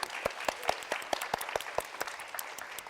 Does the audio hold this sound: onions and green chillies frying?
no